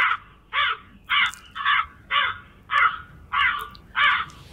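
A crow caws eight times in a steady, evenly spaced rhythm, each call harsh and fairly close, with quiet background between calls and no talking.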